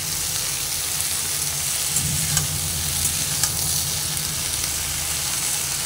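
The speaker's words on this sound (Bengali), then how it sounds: "আলু আর ঢ্যাঁড়স কিছুটা একসঙ্গে ভেজে নেব" Potato and okra fry together in a pan with a steady, close sizzle, joined by occasional scraping stirs partway through; no one speaks.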